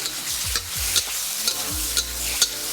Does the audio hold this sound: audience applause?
no